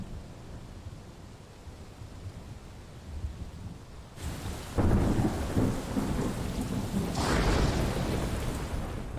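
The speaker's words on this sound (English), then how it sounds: "Meanwhile, thunder." A thunderstorm with rain in Final Fantasy XVI: steady rain hiss gives way halfway through to a loud, deep crack and long rolling rumble of thunder over heavier downpour, no talking.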